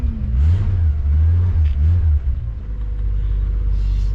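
A Kawasaki motorcycle engine running nearby, a steady low rumble with a few brief revs rising and falling, heard alone without talk.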